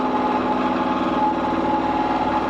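A wound rotor induction motor runs at the 50% speed setting as it slows, giving a steady tonal hum with a constant mechanical whine and faint vibration throughout the short stretch.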